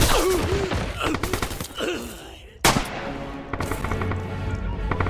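Red Orchestra 2 battle: rapid bursts of machine gun fire crack close and loud, broken by a short lull, then a heavy blast and more gunfire, with shouting voices mixed in.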